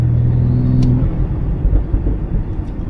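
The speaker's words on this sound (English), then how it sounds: "Listen to that intake." A BMW X3 M40i engine revving, its intake giving a deep, loud, close rumble and whir that swells and fades inside the cabin, with no talk.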